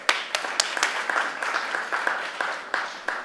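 Sparse, fairly faint hand-clapping from a small crowd at an outdoor post-Katrina and Rita awareness walk, with irregular individual claps over a light steady patter lasting a few seconds.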